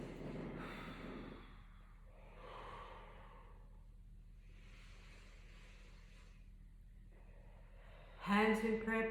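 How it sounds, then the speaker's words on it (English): A person doing yoga breathing lies on the floor, taking a couple of slow, breathy inhales and exhales at close range, followed by a brief louder rustle at the end. "do a couple of yoga breaths"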